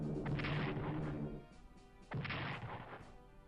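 Bombing of a city in the wartime strategy game Strategic Command: World at War, heard as two loud, dense bursts of crashing explosions with a quieter rumbling lull between them.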